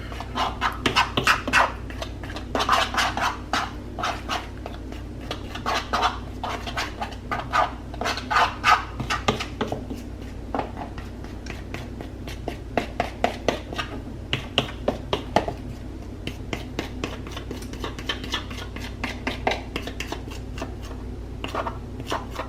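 A fork beats a thick, wet donut batter made with tofu in a bowl. Rapid, close clicking and squelching strokes come in quick bursts with brief pauses, fairly loud and with no talk over them.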